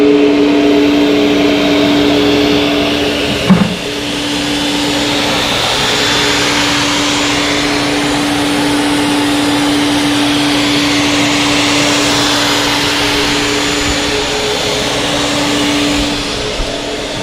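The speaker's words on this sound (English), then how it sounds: "He's basically just hovering over what that screen's telling him to hover over, and then that spindle's doing the rest of the work." A CNC shaper spindle carves a deep wooden logo, giving a loud, steady whine that holds evenly throughout, with one brief knock near the start and no talk.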